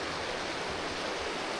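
Mate Creek in West Virginia flows steadily, a broad, even rushing wash of water with no distinct splashes or voices.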